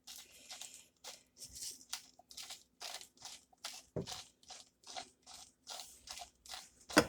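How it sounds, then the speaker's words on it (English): Small peppercorns crunched in a hand pepper grinder at home, a steady series of close, crisp grinding bursts in quick rhythm, with no talk. "I have the little peppercorns, so we put it in the pepper grinder."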